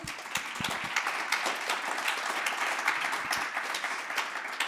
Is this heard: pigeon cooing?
no